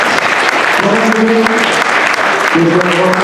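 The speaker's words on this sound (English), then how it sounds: "Let's give these guys a big round of applause." Audience applause fills a stage gathering at a game event as players are called up for prizes, a steady broadband clapping wash with voices talking over it.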